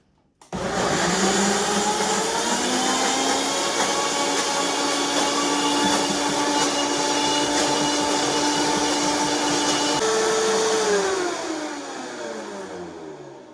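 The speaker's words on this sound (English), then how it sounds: "So, on goes the blender." A blender making aquafaba aioli whirs loudly and steadily for several seconds, its motor pitch shifting briefly before it winds down.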